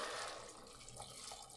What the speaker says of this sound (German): füllen wir das Ganze mit Wasser auf